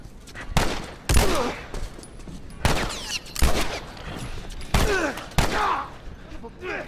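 Repeated loud shots from The Last of Us Remastered, set in the quarantine zone, ring out in separate bursts with echoing tails, spaced roughly a second apart across the stretch.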